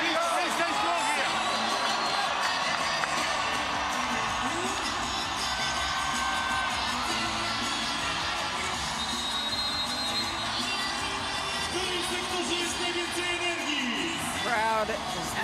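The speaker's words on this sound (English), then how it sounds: "Crowd is loving what they're seeing and being treated." A volleyball arena crowd at a VNL 2024 semi-final between Japan and Slovenia cheers and whoops in a steady, loud roar that lasts throughout, with a commentator talking over it.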